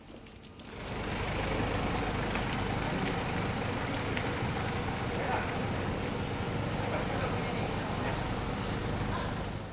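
A van driven out into a yard in Finnish Lapland, heard as a steady, loud engine and road rumble with wind buffeting the microphone, holding continuously after a quieter first second.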